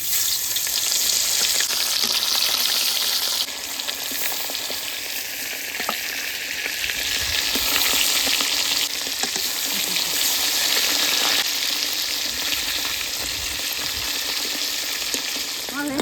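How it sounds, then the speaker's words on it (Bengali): Fish frying in hot oil, a steady loud sizzle and crackle that runs the whole time with occasional stirring, while a voice speaks faintly in the background. "তোমার তেল গরম হয়েছে, এবার মাছ দিয়ে দেবো।"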